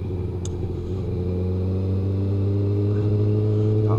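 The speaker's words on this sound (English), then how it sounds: "Downshifted, 1 gear too many." A car engine running low and droning after a downshift into too low a gear, a steady loud rumble from inside the cabin with a faint rise near the end and no talk.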